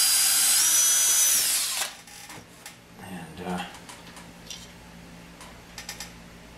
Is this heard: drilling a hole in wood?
yes